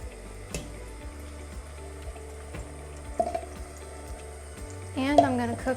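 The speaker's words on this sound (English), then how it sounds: "When the oil is hot, I'm gonna add the paste." Laksa curry paste hits hot oil in a pan, giving a sudden sizzling burst near the end after a steady low hum and scattered kitchen clatter.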